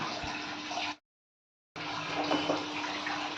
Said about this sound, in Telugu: కొద్దిగా నీళ్ళు అలా మరుగుతున్నాయి కదా